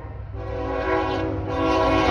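A westbound train rolls past on a Sunday afternoon, its horn sounding as a steady, loud blare over the rumble of the railcars, which grows louder toward the end.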